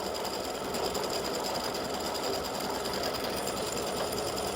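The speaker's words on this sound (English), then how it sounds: "So right now it's doing the satin stitching around the edge" An embroidery machine sews a satin stitch around the edge of a clover earring, giving a dense, continuous rapid whirring buzz, close and steady throughout with no voices.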